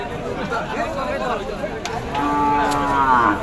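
Cows moo at a busy cattle market in Ratankandi, Kazipur, Sirajganj, with a drawn-out low moo rising over a crowd babble of talking voices nearby.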